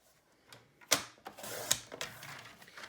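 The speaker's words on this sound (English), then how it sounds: "So let's cut this at 8 the long way." A sheet of cardstock being cut lengthwise on a paper trimmer: a few sharp, close slicing strokes with crisp ticks and rasps, fairly quiet, with no voices.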